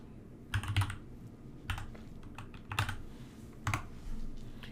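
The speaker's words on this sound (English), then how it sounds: "type in Find Time here in the search box" Keys tapped on a computer keyboard while entering a search into a search box, four short bursts of clicks spread over several seconds, close and distinct over a low steady background hum.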